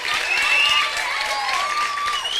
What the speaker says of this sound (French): je vous demande d'applaudir très